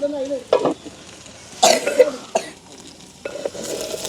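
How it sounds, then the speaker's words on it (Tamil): Pirandai (veld grape) being stir-fried in a pan, with short bursts of sizzling and scraping stirs, a cough, and quiet stretches between them. "அப்படியே பிரட்டி விடுவோம் நல்லா அப்படியே பொறிஞ்சு"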